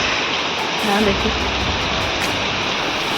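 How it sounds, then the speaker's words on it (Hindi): Heavy rain pours down over hillside fields in a mountain village, a loud, continuous wash of hiss that fills the clip while a voice speaks briefly over it. "बहुत ज़्यादा खतरनाक बारिश आने लगी है।"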